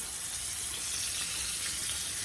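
Curry-seasoned catfish fries in hot oil, giving a constant bright, close sizzle and hiss with a dense crackle and no pauses, and no voices over it.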